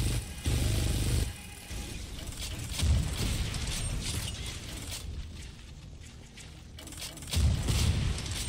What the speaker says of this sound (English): Keep shooting three rockets at once.